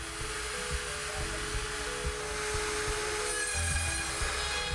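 A CNC router cuts plywood with a steady high-pitched whine and a harsh rasp underneath. The sound runs loud and unbroken throughout, with slight shifts in pitch as the cut moves along, and no voices.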